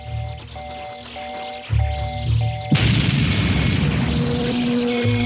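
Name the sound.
cannon firing explosion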